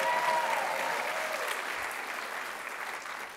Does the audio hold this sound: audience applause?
yes